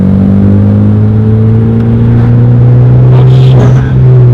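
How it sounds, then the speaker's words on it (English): A 2013 Hyundai Genesis Coupe 2.0T pulls hard at full throttle, its turbocharged engine droning loud and steady with rising pitch, a brief whoosh near the end hinting at the blow-off valve. "I gotta always say something about that blow-off valve because it is so loud"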